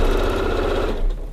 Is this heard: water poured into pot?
no